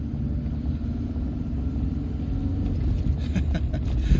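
A 1989 Volvo 240 2.0 GL Estate with a heavy clutch pulls along slowly, its steady low engine rumble and road noise close and constant, rising slightly toward the end.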